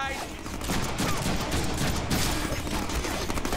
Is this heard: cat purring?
no